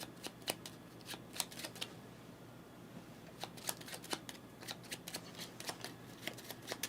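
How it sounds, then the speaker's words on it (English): A deck of cards is shuffled by hand during a solo play of the board game Genotype, in a series of crisp riffling bursts with short pauses between them. "Shuffle these while I'm at it."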